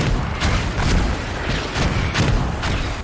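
Video game mortars fire in rapid succession, a dense rumbling barrage of loud booms and blasts with several sharp impacts, close and continuous.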